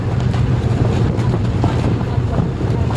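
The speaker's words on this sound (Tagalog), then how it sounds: "Malakas ang hangin." Strong wind buffets the microphone over a low rumbling engine drone, a continuous roaring wash typical of a boat moving at sea.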